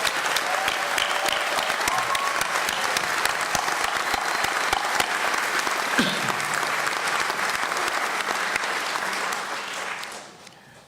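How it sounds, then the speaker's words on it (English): An audience at a college diploma and awards ceremony applauds graduates, dense sustained clapping from a large crowd in a hall that carries on steadily for about ten seconds before tapering off at the end. "please join me in a well-deserved round of applause for our graduates'"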